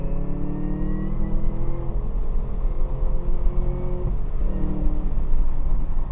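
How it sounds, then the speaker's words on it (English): A McLaren sports car passes on the Buttonwillow race track, a loud, steady engine roar with a rising and falling pitch, heard alone without talk. "I'm gonna let this McLaren by."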